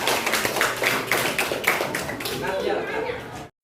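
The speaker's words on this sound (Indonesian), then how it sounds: "Oke, tepuk tangan semuanya." Children in a classroom applauding, a brisk burst of many claps mixed with young voices chattering, which stops abruptly.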